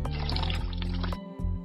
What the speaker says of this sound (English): Clean the feet by pouring some water.